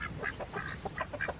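Ducks out on a patch of greens quack in a lively run of short nasal calls, several birds close by and fairly loud.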